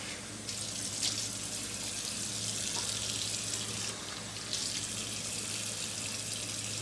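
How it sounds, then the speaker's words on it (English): Running tap water pours steadily into a sink while a face is washed, with brief splashing changes as hands move through the stream. "I wash the face first."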